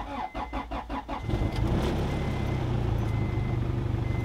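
A turbocharged Honda Integra engine cranks with several rhythmic starter pulses, then catches and settles into a loud, steady idle close by.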